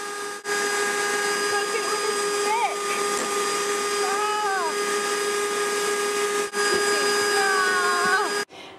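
Melted Cadbury chocolate being mixed into muffin batter, with a steady motor-like whirr running almost unbroken throughout while a person talks over it.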